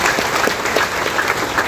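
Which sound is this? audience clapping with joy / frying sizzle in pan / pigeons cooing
audience clapping with joy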